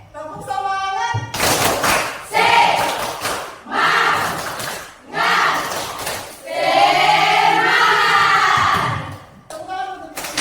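A group performing the tepuk semangat spirit clap, loud rhythmic bursts of clapping in patterned phrases separated by short gaps, mixed with shouted voices.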